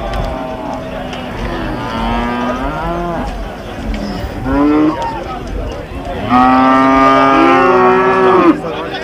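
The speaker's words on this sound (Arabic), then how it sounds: "هذا كله سوق عجل التسمين." Fattening calves at a livestock market in Diyala, Iraq, moo loudly and close by in several long, wavering calls, one after another, with the last ones the strongest over a low crowd background.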